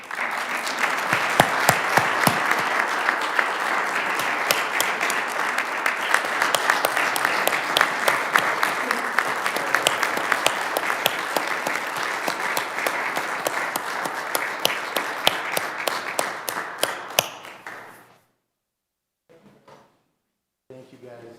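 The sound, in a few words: audience applause at city council meeting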